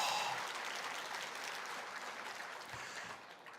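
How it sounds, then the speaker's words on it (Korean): A church congregation applauds during a sermon, a soft, sustained patter of clapping heard from a distance that slowly fades. "아브라함 위해서 박수 한번 쳐줘봐."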